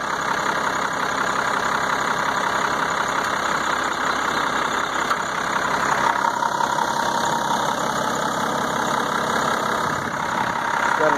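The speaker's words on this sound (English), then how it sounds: "Got a Mitsubishi turbo diesel engine, and it runs and operates the best." A Mitsubishi turbo diesel engine in an S40 off-road dump truck with a closed cab idles steadily and up close, a continuous mechanical rumble with a faint knocking texture and no voices throughout.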